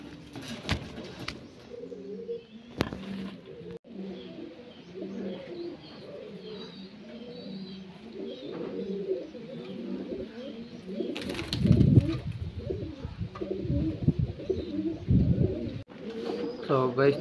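Pigeons coo in soft, overlapping bubbling calls throughout a loft, close and steady, with a few sharp knocks and bursts of rustling flutter in between.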